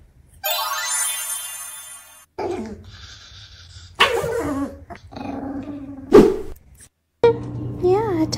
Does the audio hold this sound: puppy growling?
yes